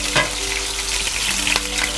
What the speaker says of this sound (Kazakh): Қызып тұрған майымызға осылай пиязды қуырып